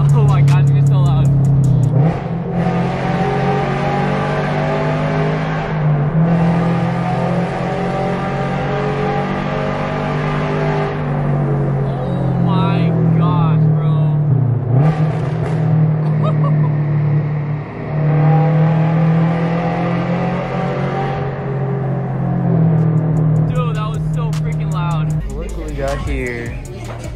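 A loud car engine revs hard inside a tunnel, a sustained echoing drone that swells and drops across several throttle blips, with people talking over it.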